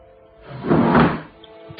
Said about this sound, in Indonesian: Terdengar suara benda-benda seperti digeser-geser, yang terdengar jelas dari kamar di atas kami.